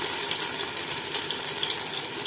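Tap water runs steadily as a mixer jar is rinsed out in a home kitchen during biryani preparation, a continuous close splashing hiss with no voices.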